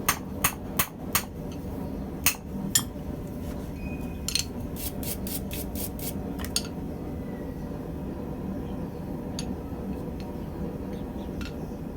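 Sharp metallic hammer blows ring out as a set hammer strikes hot metal while forging tongs, a quick irregular series of strikes early on, then sparser hits over a low background hum.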